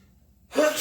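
A person indoors gives a single sharp sneeze that bursts out after a near-silent moment. It is close and loud.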